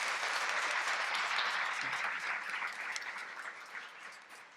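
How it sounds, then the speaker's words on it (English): Audience applause at a university women's leadership symposium panel, a dense wash of clapping heard from within the room that holds strong and then gradually thins out. "Let's give a round of applause for Judy."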